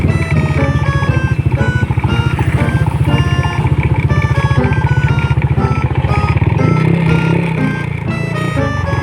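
A motorized tricycle's engine putters loudly and close by in Butuan City, a fast, rough, steady mechanical drone that holds for nine seconds with a slight rise near the end.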